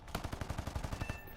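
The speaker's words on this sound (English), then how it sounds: "I'm trying to shoot him." Rapid machine gun fire from a P-51 fighter in a combat flight video game, one sustained burst of fast even shots, loud and close, with no talk.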